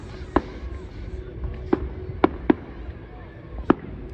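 Several sharp fireworks bursts crack at irregular intervals, about five distinct bangs over a few seconds against a low rumbling background, mid-distance and fairly loud.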